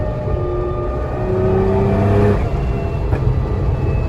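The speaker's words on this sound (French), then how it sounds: "Là, j'accélère, je relâche et là, je fais tout sur les flammes." A Nissan GT-R tuned past 1000 horsepower revs hard, its engine climbing to a sustained roar before the throttle is released, then a brief sharp crackle from the exhaust as flames shoot out, close and loud.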